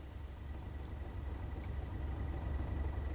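Class 37 diesel locomotive engine in Train Sim World 2, its low steady rumble fairly faint and swelling slightly as it runs, with no voices.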